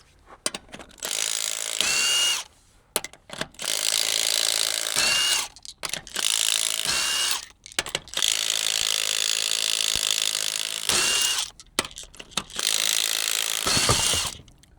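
An AGM Electric Jack PRO lifting a Kawasaki H2 motorcycle gives off repeated bursts of loud ratcheting, whirring mechanical noise. Several runs of a few seconds each are broken by brief pauses, close up, with no talking.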